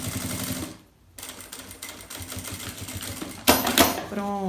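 A sewing machine stitching fabric for an emoji-face bag, running in short bursts with brief pauses, heard up close in a quiet indoor workspace.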